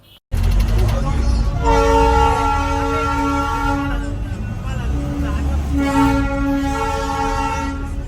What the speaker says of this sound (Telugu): చూసారు కదా టాయ్ ట్రైన్ అయితే ఎలా వెళ్తుందో